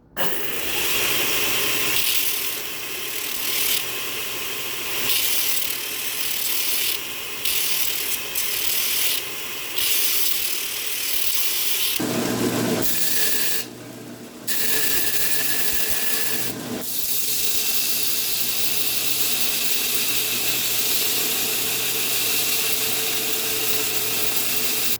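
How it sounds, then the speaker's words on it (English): A surface grinder working a stainless steel knife blade makes a steady, close rasping grind with a low motor hum beneath, broken by brief sharper passes and short dips. "I'm going to clean it up on the surface grinder to get the sides nice and even and clean"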